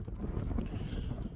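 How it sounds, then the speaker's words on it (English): Strong wind buffets the microphone outdoors on a blustery day, a continuous low rumbling roar that stays loud throughout with no voices. "Wow, it's really windy."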